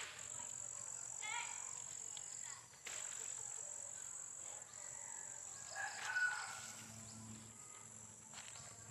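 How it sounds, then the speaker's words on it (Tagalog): Faint clucking from chickens outdoors, with a steady chirp of insects in the background and scattered soft calls. "Mga manok."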